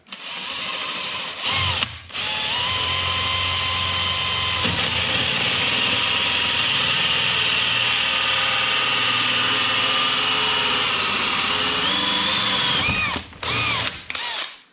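Power drill fitted with a 1 3/4 inch bit cutting steadily into bamboo for a lumber rack, a loud continuous whine with brief stops near the start and end.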